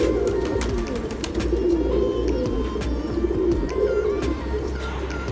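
Several pigeons coo continuously in overlapping low, throaty calls, with faint chirps and rustling in the background; no talking.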